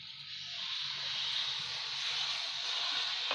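Water being poured into a pan of paneer do pyaza curry after two minutes of frying, a soft steady hissing sizzle that rises and holds, fairly quiet, with no talk.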